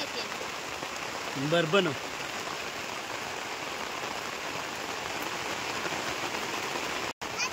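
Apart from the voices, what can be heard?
sudden rain shower falling on a tent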